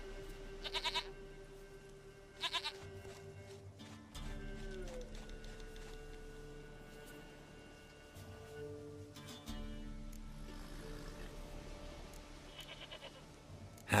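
Goat bleats from The Witcher 3, several moderate wavering calls spaced over the scene under game music and ambience, with a few sharp clicks in between.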